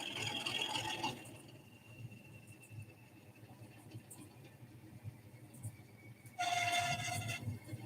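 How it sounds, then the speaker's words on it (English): A train locomotive sits at idle with a low, steady rumble, then a high, thin brake squeal rings out briefly and comes back louder near the end along with a burst of hissing noise. "Oh, it's got brake squeal as well. Right, that's what she sounds like on Tickover."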